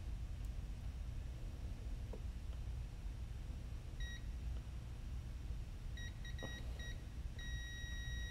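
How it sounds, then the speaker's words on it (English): A multimeter on a continuity test gives short, thin electronic beeps during a Caddx Vista U.FL repair: one brief beep, then a quick cluster of beeps, then a longer steady tone. All sound faint over a constant background hiss. "let's do a continuity test."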